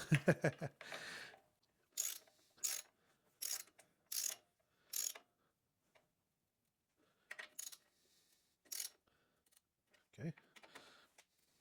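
A ratchet wrench tightens bolts on a Kohler engine, giving short bursts of close clicking separated by pauses, with a voice briefly heard at the start.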